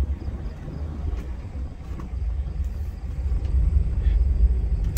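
A 1978 Dodge Ramcharger on the move, a steady low engine and road rumble that builds slightly louder toward the end, with faint rattles over the bouncy ride.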